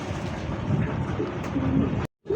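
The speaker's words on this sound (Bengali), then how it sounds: "কালারিং কবুতরের মধ্যে শাটিনের একটা জোড়া।" Satin pigeons, a pair of colour-breed birds, give soft low cooing over steady background noise. The coos are close and moderately loud and run through most of the clip, then stop in a brief silent gap near the end.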